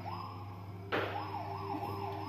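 An ambulance or police car siren wails steadily in a children's play area, a rising and falling tone that carries on throughout over a low background hum, with a sharp burst of broadband noise partway through.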